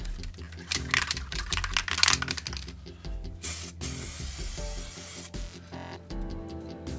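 White primer sprayed from an aerosol can onto a tile, heard as loud close bursts of hissing spray, some short and sputtering and one longer steady blast, over a backdrop of music.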